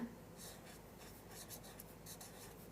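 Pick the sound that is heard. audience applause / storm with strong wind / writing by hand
writing by hand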